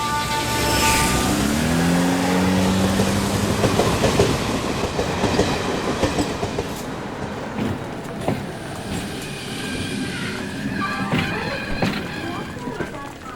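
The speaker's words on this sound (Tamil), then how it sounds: "எது ட்ரெயின் வந்துச்சு" A train rumbles past up close with rhythmic clattering of wheels on rails, loud and continuous while voices talk nearby.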